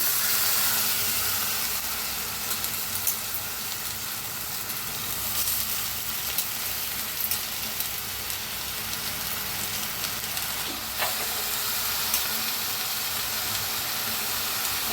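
Drumstick pods tossed into browned onion and green chilli in a hot pan for a dry Maharashtrian sabzi, a steady close sizzle and hiss running throughout with faint scraping, no voices.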